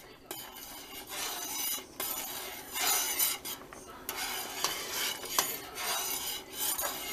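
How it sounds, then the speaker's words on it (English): A spoon scrapes and stirs boiling strawberry peach jam in a pot, a steady close rasping swish with bubbling underneath and occasional light clinks. "Keep stirring it so that you don't get any scorching or burning."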